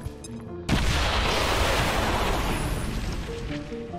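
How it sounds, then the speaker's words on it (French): A grenade in the video game XCOM 2 goes off with a sudden loud blast, then a long roaring rumble of debris that slowly fades. "Je lance une grenade."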